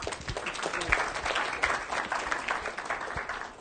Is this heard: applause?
yes